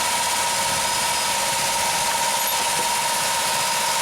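A Dodge Caravan engine idles high, a constant steady hum with a sustained whine, close and unchanging, with no voices.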